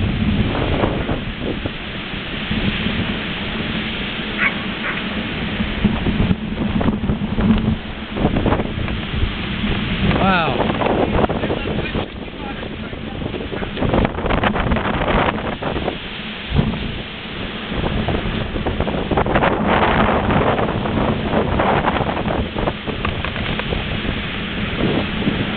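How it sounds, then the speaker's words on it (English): Gusty nor'easter storm wind roars steadily and loudly throughout, with buffeting on the microphone and the rush of rain mixed in, no voices. "This is our little storm."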